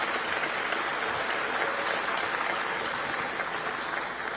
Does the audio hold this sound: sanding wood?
no